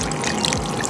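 Water is poured steadily into a cooking pot, a continuous close, fairly loud splashing stream.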